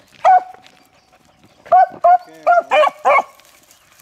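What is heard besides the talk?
beagles barking while running a track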